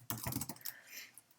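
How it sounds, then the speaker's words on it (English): Computer keyboard keys being typed on in a short burst of close, fairly quiet clicks that taper off into light background noise. "wait, no, I want to type first."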